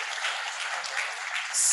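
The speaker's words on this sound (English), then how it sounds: "Please give this team a very big hand clap." A crowd applauds a team on stage at an International Youth Day celebration, a thin, fairly distant wash of clapping that stays level throughout.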